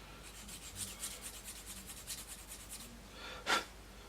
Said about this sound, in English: it's just sand and sponge and clean up the areas